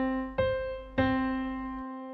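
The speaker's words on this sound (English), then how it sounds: "octave, and that sounds like this." Two piano notes an octave apart, a C followed by the C eight notes higher, each struck cleanly and left to ring and decay, close and alone with no talking.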